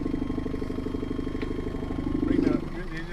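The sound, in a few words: sailboat engine idling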